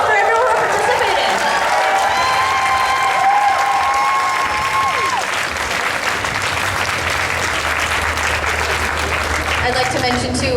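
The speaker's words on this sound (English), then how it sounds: "Give them a round of applause for everyone who participated." Loud, sustained applause from a convention audience at a spring anime convention costume contest, steady clapping filling the whole stretch with crowd noise.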